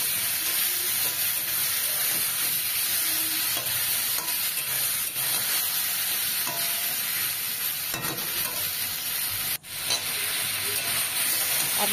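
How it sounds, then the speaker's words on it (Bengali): Mango and fish pieces are stirred together in a hot pan for a Bengali sour mango fish dish, with a continuous close sizzle and hiss, scraping stir noises, and a brief dip near the end. "আর মাছগুলোও দিয়ে দিলাম একসঙ্গে, আম মাছ ভালো করে নেড়ে নেব"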